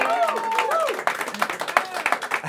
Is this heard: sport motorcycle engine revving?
no